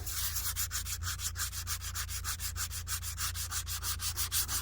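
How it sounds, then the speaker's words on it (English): Steady rhythmic rasp of sandpaper rubbed back and forth by hand on a narrowboat during painting, close up, with quick even strokes and no talking. "So I'm just hand sanding."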